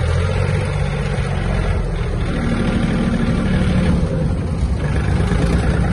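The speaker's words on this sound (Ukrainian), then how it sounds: "У трактора приємна вібрація, він гарно та швидко набирає швидкість." A Yanmar EF-222 Japanese mini tractor drives and accelerates, its engine a steady, loud, close drone with a rising tone and no talking over it.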